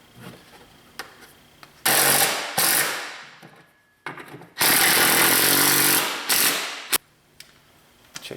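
A power tool spins a nut back onto a blown rear shock on a Honda Pilot, running in two loud whirring bursts of a second or two each, separated by lighter clicks and handling noises, close by.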